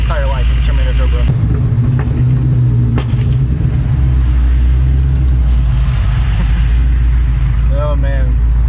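Whipple-supercharged Ford Terminator Cobra engine idling just after a cold start, a loud, steady low rumble with a rough, uneven lope and occasional pops, heard up close while people talk over it.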